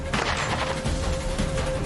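A single sharp gunshot cracks out near the start, followed by a rolling outdoor echo and faint background noise.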